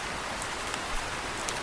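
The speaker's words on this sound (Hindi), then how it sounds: "बारिश इतनी ज़्यादा तेज है" Heavy rain in a cartoon forest pours as a dense, steady hiss with a few faint drop ticks, brief and alone.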